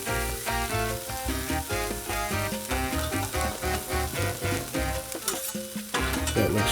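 Omelette eggs cooking on a 22-inch Blackstone griddle, a continuous sizzle partly masked by loud rhythmic background music, with no one speaking.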